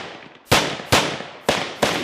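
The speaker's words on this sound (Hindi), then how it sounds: "एक आगे फायर करते हुए बढ़ता है तो दूसरा उसे कवर फायर देता है" Four loud, sharp gunshots crack out close by during army commando training, spaced roughly half a second apart, each with a short ringing decay and no voices.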